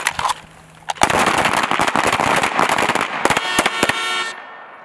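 Many pistols fire together on a military small arms championship range, a dense, loud burst of overlapping sharp cracks at close and middle distance, thinning to a few final shots before stopping.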